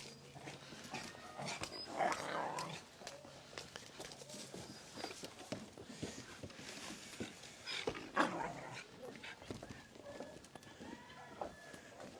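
Dogs let out to play on a farm, with scattered yips, panting and pattering paws, plus brief rustles and thumps, fairly quiet and spread across the scene, with no talk.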